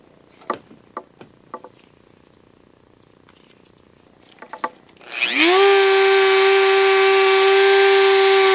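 A spring wire end dressed on a shop power tool, likely a grinder: a few sharp scrapes and taps, then a loud, steady high whine that spins up near the end and holds, close and alone.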